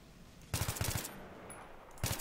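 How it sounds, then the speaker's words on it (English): Two quick bursts of AEK assault rifle fire in Battlefield 3, each a tight cluster of rapid shots, the first longer run of about six rounds and a second shorter burst a moment later, close and punchy. "beyond this distance is when we need to work on burst firing, okay? Quick burst, right?"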